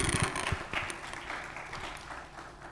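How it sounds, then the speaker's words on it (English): Faint, steady applause from a symposium audience on artificial intelligence in cancer research, a soft wash of clapping that thins gradually over a few seconds. "Round of applause for Fred."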